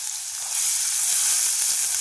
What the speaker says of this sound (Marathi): आता आपण यातली ही डाळ यामध्ये टाकणार आहोत